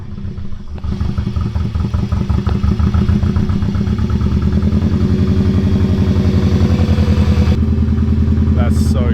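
A Subaru WRX GC8 running with no exhaust fitted, a loud, rapid, raw engine clatter at close range that holds steady after start-up, with a brief voice near the end.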